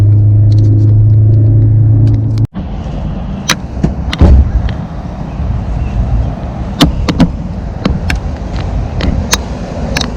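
Subaru BRZ with a steady loud engine drone that cuts off abruptly, then rumbles on as the car drives, with scattered clunks and sharp knocks over the engine noise and no talk.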